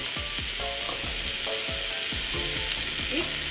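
Cubed potatoes and bitter gourd sautéing in a hot pan give a continuous bright sizzle, with repeated scraping and clinking strokes from a spatula stirring at a quick, regular pace.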